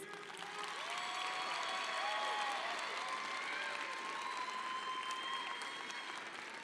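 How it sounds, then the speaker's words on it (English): A large crowd of families, supporters and graduates applauds steadily at a high school commencement ceremony, dense clapping sustained throughout with a few scattered cheers rising above it. "Please give them a resounding round of applause."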